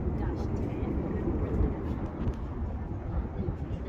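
A distant airplane taking off from an airfield near Las Vegas, heard from the Eiffel Tower observation deck at the Paris hotel as a steady, low, continuous roar with wind around it.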